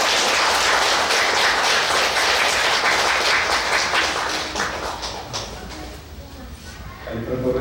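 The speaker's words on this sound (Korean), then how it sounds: "다 함께 큰 박수로 맞이해주시기 바랍니다." An audience breaks into applause to welcome a speaker at a mission report gathering, a dense crowd clapping that swells loudly, then fades toward the end as a voice begins.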